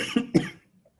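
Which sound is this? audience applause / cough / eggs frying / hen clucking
cough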